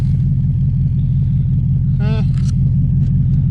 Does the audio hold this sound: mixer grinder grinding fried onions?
no